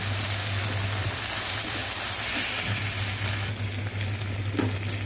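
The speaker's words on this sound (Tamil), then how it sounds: "1 டீஸ்பூன் அளவுக்கு இஞ்சி பூண்டு பேஸ்ட்டை நம்ம சேர்த்துக்கலாம். சேர்த்து நல்லா வதக்கிக்கோங்க." Onion and ginger garlic paste sauté in a pan for spicy masala macaroni, a dense continuous sizzle and hiss close up with a low steady hum underneath.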